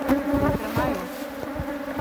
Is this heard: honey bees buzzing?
yes